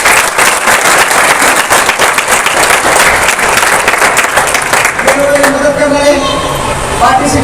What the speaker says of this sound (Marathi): त्यांच्यासाठी जोरदार टाळ्या व्हायलाच पाहिजे